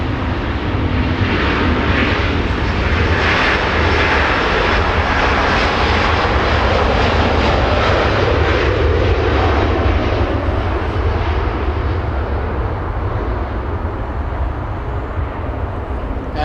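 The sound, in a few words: Lufthansa jet departing Los Angeles airport for Munich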